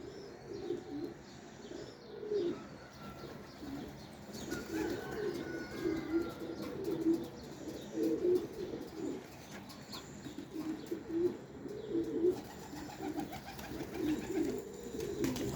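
Young pigeons making their first flights coo in repeated soft, rhythmic phrases, with a few chirps and faint rustles in the background.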